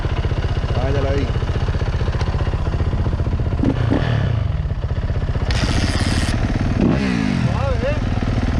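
A dirt bike engine runs steadily on a trail, rumbling and clattering up close throughout, with people talking over it and no distinct kick-start stroke standing out.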